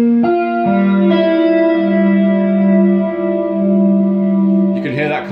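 Guitar through a Leslie rotating speaker as it ramps down, a sustained chord with slowing, wavering modulation, loud and close, with a few new notes struck near the end.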